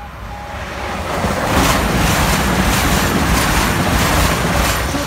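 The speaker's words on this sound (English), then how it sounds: "East Midlands train service from Nottingham to London, St Pancras" An East Midlands passenger train from Nottingham to London St Pancras rumbles past nearby at Attenborough level crossing, building to a loud, steady rushing roar with rhythmic clatter that holds and then begins to ease.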